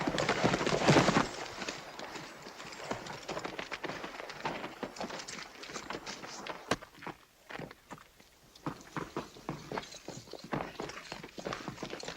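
Horse hooves clip-clop steadily over the ground in a classic western film, a continuous uneven stream of close, crisp hoofbeats lasting throughout.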